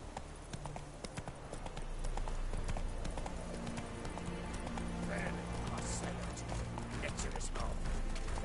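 Horse hooves clip-clop steadily at a gallop in The Witcher 3 video game, loud and continuous, with voices calling out and talking over the riding.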